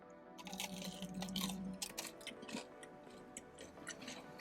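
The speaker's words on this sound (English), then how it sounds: "Aside from that nice crunch that it's got right in the beginning" Crunchy Popeyes Voodoo chicken tenders being eaten close to the mic, with crisp bites followed by irregular chewing clicks and crunches.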